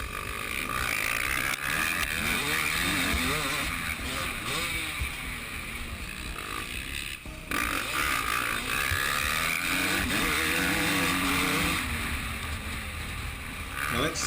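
A 2013 Husqvarna WR300 two-stroke motorcycle rides a motocross track, its engine loud and close, revving and shifting pitch continuously with a brief drop partway through, under wind buffeting.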